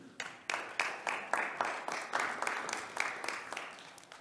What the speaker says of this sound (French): Merci à Thierry, on l'applaudit aussi s'il vous plaît.